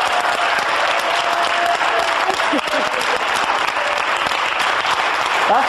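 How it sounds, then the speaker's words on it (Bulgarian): Audience applause fills the room, a dense steady wash of clapping from a large crowd sustained for several seconds, loud and close, with faint voices mixed in. "Моля отново аплодисменти за тях!"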